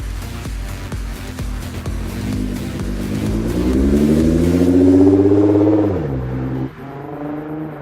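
A red Nissan GT-R accelerates hard from inside the cabin, its engine drone climbing steadily in pitch and loudness before a sudden drop at a gear change, then pulling again.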